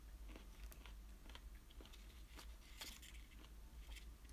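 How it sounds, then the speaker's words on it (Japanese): Pickles being chewed during a quiet eating livestream, soft close crunches and bites scattered irregularly over a faint steady hum. "咀嚼音。 だから絶対みんなもっと聞こえてんだろうな。"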